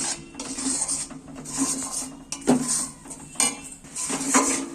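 Green pea filling for kochuri being stirred and dry-fried in a pan, repeated scraping strokes of a metal spatula against the pan in an uneven rhythm with light clinks, close and clear, no talking.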